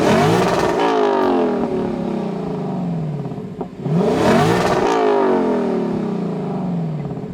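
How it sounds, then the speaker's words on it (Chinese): A stationary Lexus LC500 Convertible with a naturally aspirated 5.0L V8 in Sport Plus mode revs hard twice, each blip rising sharply to a loud howl and then falling away, close and alone. "你看那个 V8 的声浪"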